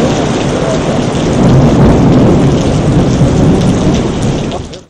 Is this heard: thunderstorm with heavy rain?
yes